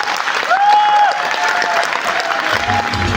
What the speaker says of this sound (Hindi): इतनी तालियां बस